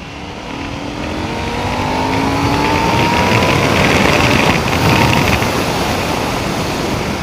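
A KTM 790 Duke motorcycle engine drones under loud, steady wind and road roar during a ride, its tone climbing and sliding as the throttle changes, with no talking.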